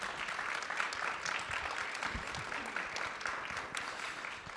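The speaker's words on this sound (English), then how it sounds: "if everyone would give them a round of applause" A room full of people at a project launch event claps steadily and continuously after a panel, a dense, even patter of applause with no single voice standing out.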